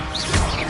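The Levioso spell cast in the Hogwarts Legacy video game: a short, loud magical whoosh with a smacking impact, over in under a second.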